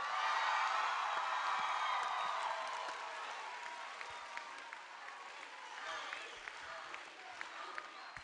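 Concert audience at a spring choir festival applauding steadily, loud at first and then easing to a softer, sustained clatter of clapping with scattered sharper claps and faint voices in the crowd.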